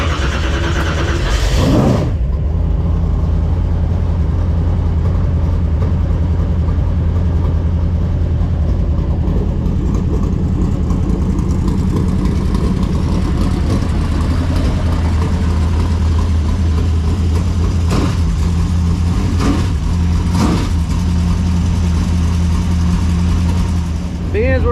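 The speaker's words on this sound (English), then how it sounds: "we're gonna crank it up, let it run a second" Race car engine turning over and starting, then settling into a steady loud idle that runs on with a couple of brief revs, while people talk over it.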